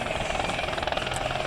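Loud, continuous whine and rotor chop from a 500-horsepower single-engine turbine helicopter at an aerodrome air show, heard up close and steady throughout.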